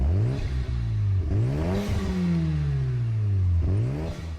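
An RE Amemiya FD3S engine in Gran Turismo Sport revving up and down in repeated rising and falling sweeps, loud and close, with no talk.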